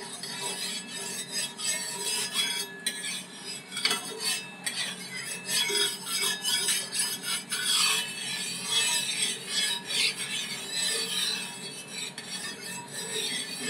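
A utensil rubs and scrapes across a cooking pan while oil is spread over its surface before an egg goes in, giving a continuous close scratchy rasping with uneven strokes.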